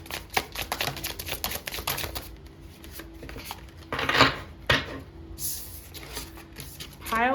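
A brand-new tarot card deck is shuffled by hand nearby, with rapid riffling bursts, crisp flicks and soft taps in an irregular rhythm.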